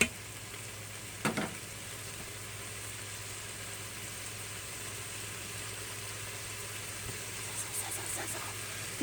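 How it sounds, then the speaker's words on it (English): Bacon and garlic sizzling inside a pressure cooker, a soft steady frying hiss under a low constant hum, with a couple of brief clatters. "You can totally hear that sizzling now. Mmm, bacon and garlic."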